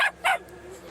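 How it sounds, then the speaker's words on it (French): A couple of dogs just flown in from Réunion island give two short, close barks in quick succession, with faint background noise after. "une dizaine de chiens en provenance de l'île de la Réunion"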